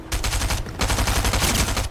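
Video game gunfire, a continuous rapid burst of automatic shots, loud and close, with a short break near the middle before the firing resumes, no talking over it.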